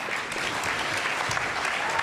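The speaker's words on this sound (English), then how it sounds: "Let's give all of these track athletes another round of applause as they move over for their photo op." A celebration crowd applauds track athletes at a sports awards event, steady dense clapping filling the whole stretch, loud and continuous without a break.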